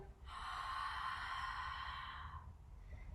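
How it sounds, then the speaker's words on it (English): A slow, steady exhale pushed out to fog a mirror during a children's yoga breathing exercise, a soft breathy hiss lasting about two seconds, close and fairly quiet, trailing off at the end. "they're exhaling slowly and fully, like they're trying to fog up a mirror"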